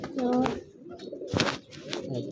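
Several pigeons coo in soft, rounded bursts nearby, with faint voices murmuring in the background.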